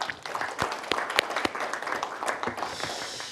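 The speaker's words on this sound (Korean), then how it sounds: "다시 한번 우리 김영수 박사님께 큰 박수 부탁드리겠습니다" A seated audience at a policy forum gives a speaker a round of applause; the clapping is faint and distant, a thin patter of hands with a few sharper claps standing out.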